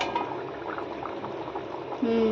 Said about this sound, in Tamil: குழம்பு நல்லா கொதிச்சிட்ருக்கு